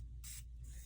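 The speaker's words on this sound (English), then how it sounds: "I like to take a setting spray and I spray the tip of this brush" A Morphe setting spray mists onto the tip of a makeup brush in two quick, soft hissing bursts, close and quiet.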